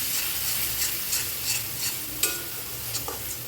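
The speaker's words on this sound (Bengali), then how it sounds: "এবার এটাকে এখানে আমি ভালোভাবে কষিয়ে নিচ্ছি।" Spices for khichuri fry in a pan with a little water, giving a soft continuous sizzle broken by a steady run of scraping stirs, close and moderately loud, with no talking.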